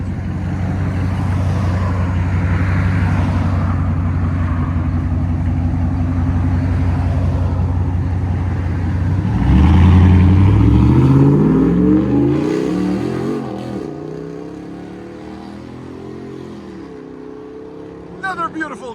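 A straight-piped 2022 RAM TRX V8 engine rumbles at a steady idle, then revs hard in a loud, close burst that falls back down, with some talk around it.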